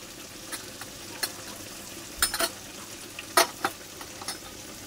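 Masala for misal sautés in a pan with a faint low sizzle, punctuated by a few brief scrapes and clinks of a spoon stirring, close and quiet.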